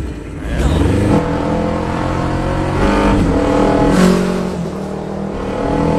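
A motorcycle in the anime Tokyo Revengers, a bike inherited from Baji, speeds along, its engine revving and surging loudly with rising and falling whooshes across several seconds.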